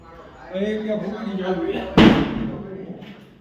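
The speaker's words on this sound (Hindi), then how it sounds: "यहाँ से कुंडी को खड़खड़ाते हैं, देखते हैं कौन खोलता है दरवाजा" A metal latch on a house door is rattled, giving one sharp clattering knock partway through, with people talking softly around it.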